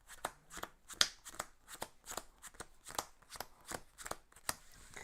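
A regular unit card deck for the Mage Knight board game is shuffled by hand, giving a close run of about a dozen crisp riffling bursts in a steady rhythm, with no talking.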